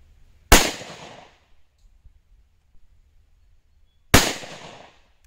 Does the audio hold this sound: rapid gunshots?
yes